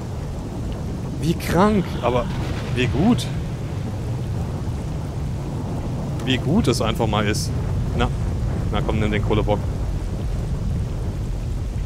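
Thunderstorm with heavy rain in the video game S.T.A.L.K.E.R.: Call of Pripyat, a loud continuous downpour roar with deep rumbling thunder underneath, while someone speaks German excitedly over it in several bursts.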